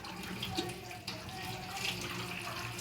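Water from boiled radish greens is poured off into a sink, a continuous splashing, gurgling stream close by that runs for a few seconds.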